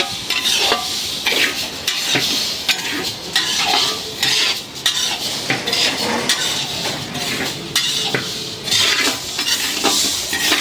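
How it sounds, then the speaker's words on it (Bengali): Steady sizzling of lentils frying with repeated scraping and clinking of a utensil stirring in a pan, continuous and close. "এখন এই যে ডাউলটাকে ভাইজা নেবো"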